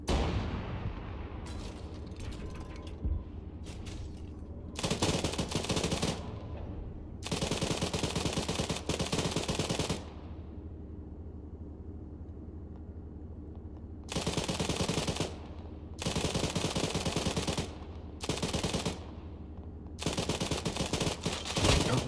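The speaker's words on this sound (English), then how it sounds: "Time to engage on poor infantry with a tank." Bursts of tank machine gun fire from the Arma 3 video game, loud sustained volleys of a few seconds each separated by short pauses, with several bursts rattling out in a steady rhythm.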